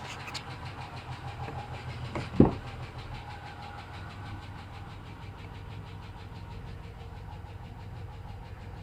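Low, steady rumble of a Chevy car engine running as it backs up and turns, heard at a moderate distance with one sharp knock partway through and no talking.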